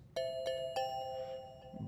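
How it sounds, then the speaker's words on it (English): Bongo bells virtual instrument striking three quick, clear metallic bell tones in a row, each ringing out and fading over a soft background, with no voices. "Bongo bells."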